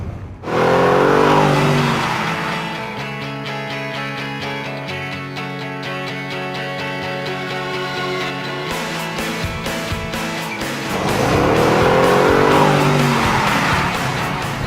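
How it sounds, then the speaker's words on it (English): Racing cars, one of them a Bentley, roar and rev loudly with tire squeals and skidding, engines surging, passing and sweeping away across an unbroken stretch of close, powerful motor noise. "I don't stand a chance in a race against Harry in a Bentley"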